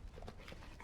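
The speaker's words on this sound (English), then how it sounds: "Bloody dog." A dog whimpering in Dragon Age Origins, a short, faint whine and soft yips lasting under a second, alone without speech.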